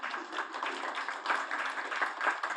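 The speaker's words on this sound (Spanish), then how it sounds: "Un aplauso para los ponentes." Applause from an academic audience at a master's programme session on digital repositories for historical research, thanking the presenters: dense, steady clapping from many hands that fills the room without pause.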